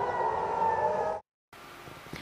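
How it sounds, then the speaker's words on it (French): Air raid alert sirens in Tel Aviv wail steadily at a distance for about a second, then cut off abruptly into a short silence before faint street ambience returns. "Tel Aviv, qui vit désormais au rythme des sirènes d'alerte"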